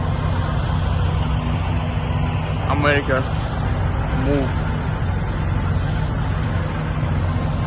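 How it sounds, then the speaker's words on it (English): Steady road traffic of cars and trucks rumbles continuously close by, a broad low drone with a passing vehicle swelling briefly, while a person talks over it throughout. "So many trucks"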